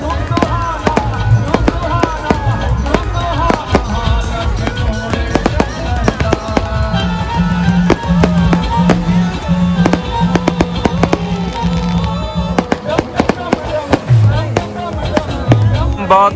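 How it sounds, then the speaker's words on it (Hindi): Firecrackers crackle and bang in dense, sharp bursts at a Dussehra festival in Patiala, loud and nearby amid crowd noise and music, with someone talking over the celebration. "यहाँ पर पटाखे चलने स्टार्ट हो चुके हैं"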